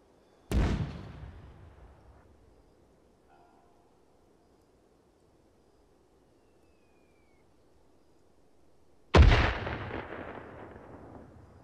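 Two loud mortar blasts in ArmA 3 land about nine seconds apart, each a sharp boom followed by a long, fading rumble, with near silence between them.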